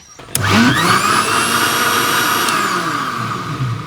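A mixer grinder jar whirs into action blending gac fruit with thick coconut milk, starting abruptly and holding a loud, steady motor roar for several seconds close by.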